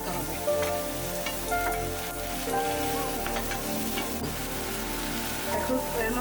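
Fish curry masala with green chilies is sautéed in a pan for a Bengali mango fish curry, giving a dense, continuous close sizzle with scraping stirs throughout and no voices.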